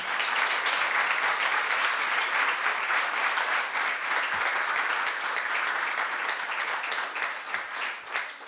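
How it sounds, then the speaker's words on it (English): A conference audience keeps up dense, sustained applause for the event's technical team. The roar of many hands stays even and loud for over eight seconds, then eases slightly near the end. "A big round of applause for them."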